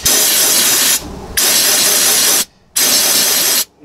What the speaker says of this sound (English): I'm gonna hit this gun and give it a blast to clear the fluid film out of the tube.